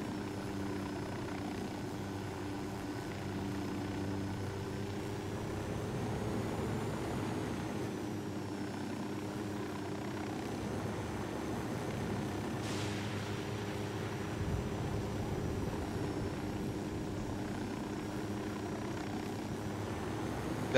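In Ghost Recon Wildlands, a pursuing helicopter drones with a steady low rotor hum and engine whine, continuous and moderately loud, alone with no talk.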